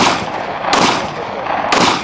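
DMR rifle fire in a video game: two loud, booming shots about a second apart, each with a long reverberant tail, over a constant dense background.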